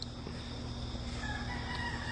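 A rooster crows at sunrise, its call riding over a steady low hum and background noise, fairly distant and unaccompanied by talk.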